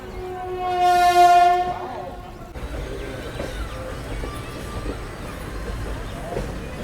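The Amritha Express sounds a long, loud horn blast near Madurai, then its rumbling run continues steadily at moderate level, with a voice faintly audible underneath.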